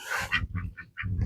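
A few ducks on a muddy farm give short, close quacks in a quick series, with a low rumble of movement underneath.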